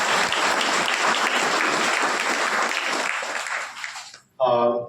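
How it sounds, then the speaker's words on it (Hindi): A church congregation at a harvest thanksgiving mass claps loudly to thank the priest, a dense sustained burst of applause for about four seconds that fades out before a single voice speaks. "तो सभी जोरदार ताली बजाकर उन्हें धन्यवाद देते हैं।"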